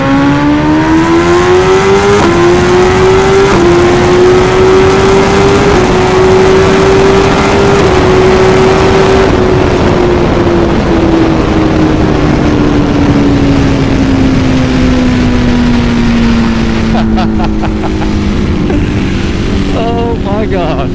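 BMW S1000RR sport motorcycle engine revving hard at high RPM, one loud sustained rising-and-falling whine that climbs for several seconds and then slowly winds down, close up and continuous with wind rush.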